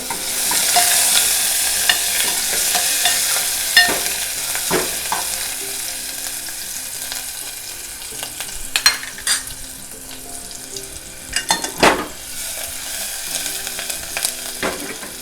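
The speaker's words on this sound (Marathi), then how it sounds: "तेल तापलं आहे कांदा आणि कढीपत्ता तर आपण चांगला परतून घेऊया कांदा" Onion and curry leaves fry in hot oil, a continuous loud sizzle with intermittent scraping strokes as a spoon stirs the pan, the stirring growing busier toward the end.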